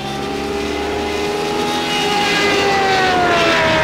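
A Radical race car engine screams at full throttle through a fast turn, a loud, steady high-revving roar heard from on board that climbs steadily in pitch throughout.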